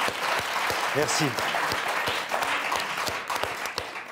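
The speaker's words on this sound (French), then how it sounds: "On vous applaudit" Studio audience applause on a French word game show, a steady dense wash of clapping across the whole moment, with a host's voice briefly speaking over it.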